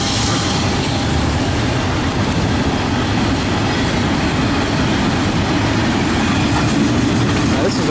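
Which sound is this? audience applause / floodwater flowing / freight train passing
freight train passing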